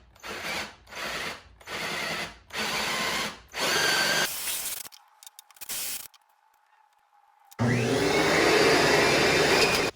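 A power drill with a 1.5-inch Forstner bit whirs in repeated short bursts, then pauses and runs in one long sustained stretch, loud and close, with nobody speaking.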